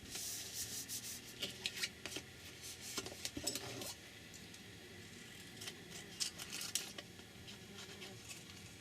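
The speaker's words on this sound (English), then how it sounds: "Glue it on with a glue stick, or with ordinary glue, whatever you want." Glue stick rubbed across a paper craft tag, with soft, quiet scraping strokes coming in short irregular bursts close to the microphone.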